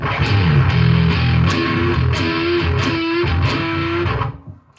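Distorted bass guitar played through an effects unit and amp, heavily overdriven with cranked mids, a loud sustained riff of shifting held notes that fades out at the end, with no talking.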